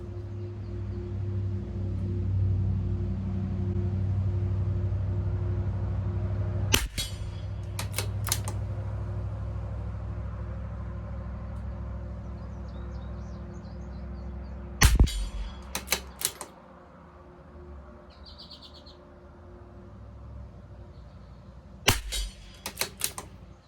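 A CZ 457 LRP rimfire rifle with an IBI barrel fires Eley Tenex Rapid Fire Pistol ammunition at 50 yards: sharp, fairly quiet cracks spaced several seconds apart, some in quick pairs, over a low steady hum.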